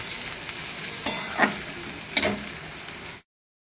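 Onion and chili masala sizzling steadily in a pan, with a few sharp scraping stirs of a spatula over the frying before it cuts to silence.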